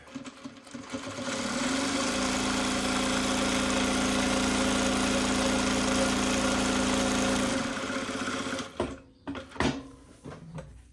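A Jack JK-T2284B direct-drive industrial sewing machine stitches a 3-step zigzag, giving a steady, close, humming whir that runs for about six seconds and then stops, followed by a few brief clicks and handling sounds.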